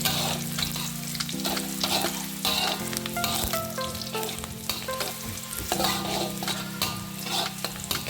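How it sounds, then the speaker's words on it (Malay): Shallots and garlic sizzle steadily in hot butter in a pan, a loud, close frying hiss broken by the scrape and clink of a utensil stirring. "Kita akan tumis bawang merah dengan bawang putih tadi sehingga dia sedang-sedang garing"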